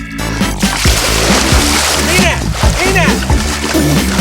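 Swimming in a lake, with repeated close splashes and sloshing water strokes under energetic voices calling out.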